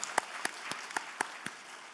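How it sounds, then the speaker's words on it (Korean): Church congregation clapping in a Sunday worship service, heard as a faint, wide wash of applause with several sharper individual claps standing out at roughly regular intervals. "주님께 감사의 박수 한번 올려드리겠습니다"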